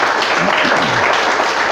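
Church congregation applauding during a Portuguese-language sermon, a dense steady wash of many hands clapping throughout, loud and continuous, with faint voices mixed in underneath.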